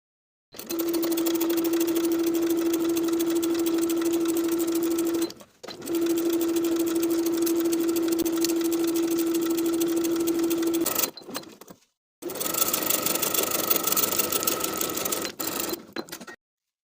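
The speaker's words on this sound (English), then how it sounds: "start sewing at the dot and around the front piece, all the way to the bottom" Sewing machine stitching a lined coat from McCall's 7847, loud, close, steady mechanical humming with a constant motor whine, running in three long bursts separated by short pauses.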